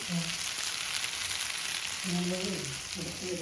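Elephant foot yam stir-fry sizzles and crackles steadily in a pan in a home kitchen, with voices talking over the frying.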